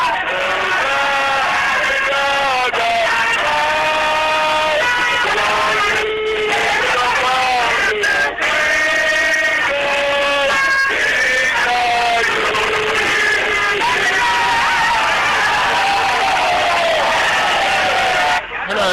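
A large crowd sings the national anthem together outdoors during an arrest, a loud sustained chorus of many voices with clear melodic lines and no pauses.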